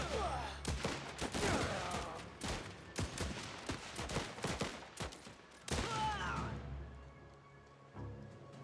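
Bursts of machine gun fire in the video game Last Train Home, rapid rattling volleys layered over one another, loud and close, trailing off near the end with quieter shots and a faint voice.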